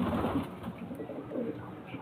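Soft pigeon cooing under a steady background hum, low murmuring coos close by in a pigeon seller's setting, with faint chatter around.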